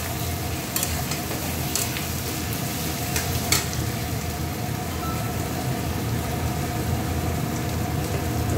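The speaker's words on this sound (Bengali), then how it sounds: "রসুনটা একটু ভাজা ভাজা হলো" Garlic frying in a pan for shutki chachari, a steady sizzle with occasional stirring scrapes and clinks, continuous and fairly close, with no talking.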